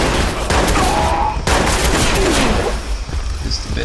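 Gunfire in the video game Watch Dogs, a dense burst of shots with quieter follow-up shots, loud and close, with some game sound mixed in.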